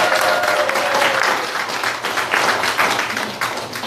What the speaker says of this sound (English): let's give my mom a round of applause